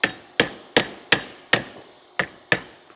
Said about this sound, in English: So, 2 good whacks with a big hammer.